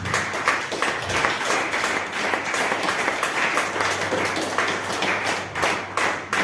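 A church congregation claps hands in an offering of applause during a sermon, a lively, rhythmic clapping with audible individual claps and thuds, close and sustained for several seconds.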